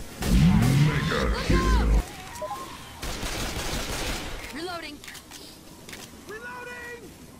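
Gunfire in Left 4 Dead 2, a loud burst of shots at the start, then quieter game ambience with voices talking over it.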